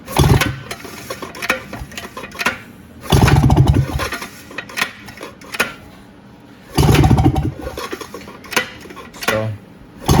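A Polaris Trail Boss 250 four-wheeler engine is pulled on its rebuilt recoil starter in repeated bursts. Loud, close pull-start cranking sputters between quieter pauses, with brief rough running after each pull.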